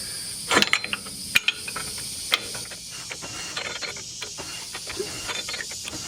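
A HMMWV geared hub turned slowly by hand during spindle nut replacement gives off soft mechanical clicks and ratcheting ticks, with a few sharper clacks early on, over a faint hissing background.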